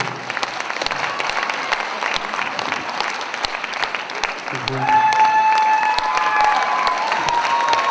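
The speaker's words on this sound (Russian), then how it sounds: "Видишь, мам, как тебе хлопают" Concert audience applauding steadily throughout, with crowd noise and scattered cheering. Partway through, a sustained tonal sound enters and continues beneath the clapping.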